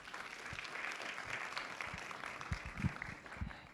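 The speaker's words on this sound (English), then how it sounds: "Let's give Sandy a round of applause" Audience applause after a lunchtime lecture on a nature preserve, a steady wash of many hands clapping at moderate, somewhat distant volume, with a few louder close claps toward the end and no talk.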